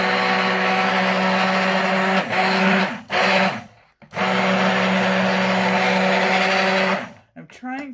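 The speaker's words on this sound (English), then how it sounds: "I'm trying to keep my blender tilted a bit" A stick blender whirs loudly in steady bursts while mixing hot process soap, stopping briefly between runs, with a person talking over the motor noise.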